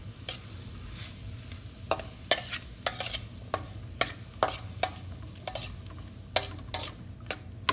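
Salted shrimp stirred in a hot frying pan, a spatula scraping in irregular strokes over a steady sizzle, close and alone with no voices.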